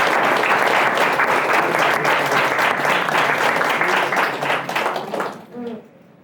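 An audience at a vegan festival talk breaks into loud, dense applause that holds steady for about five seconds, then fades out, followed by a brief voice.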